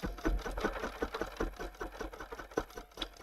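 A Bernina 790 Pro sewing machine runs a quilting stitch-out with a fast, steady mechanical chatter of needle strokes. It sounds close and continuous, with no talking.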